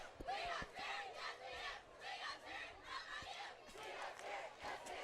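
High school football crowd at a Palo Alto versus Los Gatos game, loud rhythmic waves of shouting, cheering and booing from the stands, rising and falling in repeated bursts.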